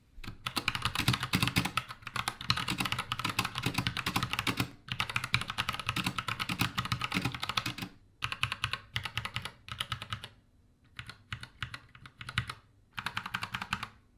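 Mechanical keyboard with brown switches typed on steadily, dense close clacking in long bursts with a few short pauses between runs, crisp and fairly loud with nothing else over it.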